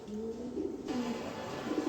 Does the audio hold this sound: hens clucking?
no